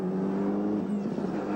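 A Mitsubishi rally car is driven hard on tarmac in the 1995 World Rally Championship, its engine holding a steady loud drone with a slight rise in pitch and no speech over it.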